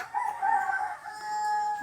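A rooster crowing close by on a farm where the chickens are fed cassava, one long, loud, drawn-out call that fades at the end, with no talk.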